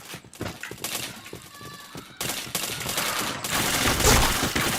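Rapid bursts of automatic gunfire and single shots crackle in a video game, loud and near, running into a sustained barrage near the end.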